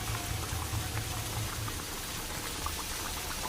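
Ghee bubbles and sizzles in a pan during the cooking of doi katla, a Bengali fish curry. A close, steady crackle with soft popping bursts continues throughout.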